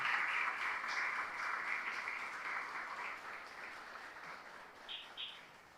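Applause from a church congregation during a Spanish-language sermon, a steady wash of clapping that holds for several seconds at moderate level and slowly fades, with a few faint chirpy accents near the end.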